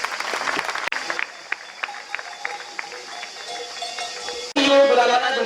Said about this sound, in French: je pense qu'on peut les applaudir chaleureusement